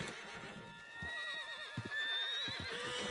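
A horse in the Red Dead Redemption 2 video game neighs, a loud wavering whinny with snorts and hoof thumps, heard alone without speech.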